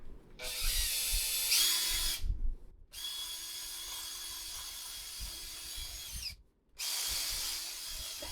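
A power drill bores a hole into a photo board, whining in two long bursts of steady high-pitched drilling separated by brief pauses, loud and close with no talking.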